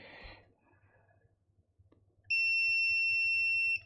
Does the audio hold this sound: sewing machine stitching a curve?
no